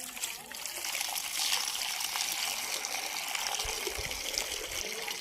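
Tap water runs steadily into a container that is nearly full, a continuous trickling gush heard close by with no voices.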